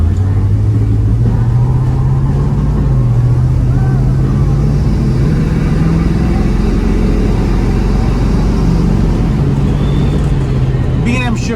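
A 1972 Chevrolet Nova with a B&M shifter cruises down the road, its engine a loud, steady low drone with rising and falling pitch as it pulls along, heard from inside with constant road rumble.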